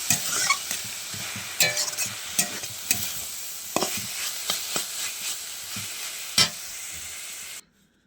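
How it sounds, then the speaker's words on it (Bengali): Cabbage ghonto with sugar and ground garam masala sizzles in a pan while it is stirred, bright hissing crackle with repeated scraping strokes and one louder knock, ending abruptly in silence, with no talking. "এখানে আমি দিয়ে দেবো একটু চিনি 1 চামচ মতন। গরম মশলা বাটাটা বেটে রাখছিলাম এটা দিয়ে দিব"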